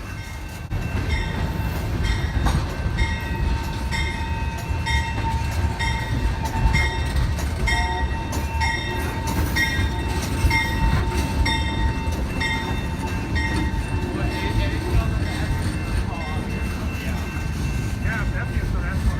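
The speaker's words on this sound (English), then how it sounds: "It was obviously an F40PH horn" A passing train with an F40PH locomotive, its horn sounding as steady tonal blasts over a continuous rumble of rolling cars, loud and sustained throughout.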